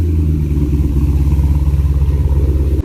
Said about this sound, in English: I did manage to get this cold start for you guys just so you can hear what it actually sounds like